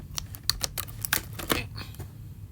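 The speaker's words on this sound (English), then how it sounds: "These scissors are terrible." Scissors snip at plastic doll packaging up close, a quick series of sharp clicks and crinkly cuts spaced irregularly over a couple of seconds.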